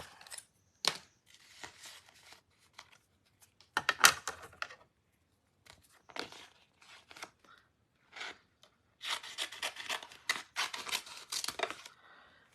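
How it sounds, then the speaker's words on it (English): Scissors snip a strip from a pack of adhesive material, heard as scattered crisp cuts and rustling handling noises in bursts separated by quiet gaps, close and fairly soft. "we're just gonna cut a strip. I need to get my scissors."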